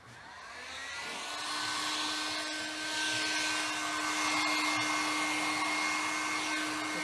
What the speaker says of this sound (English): once you get that hairdryer on here, that heat gun, crackle will all start just